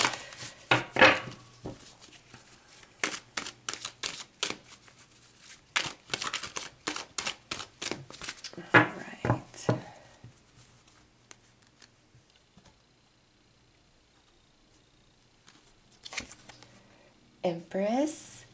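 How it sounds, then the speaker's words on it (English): Rapid bursts of riffling tarot cards, repeated in several rounds with pauses between, crisp and close, ending with a louder flurry of handling. "nope, shuffle some more."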